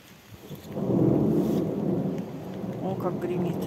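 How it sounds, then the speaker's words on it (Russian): Thunder swells into a long, heavy rumble that rolls on for several seconds, with rain pattering steadily underneath, during a summer downpour in a garden in Moscow Oblast. "О, как гремит."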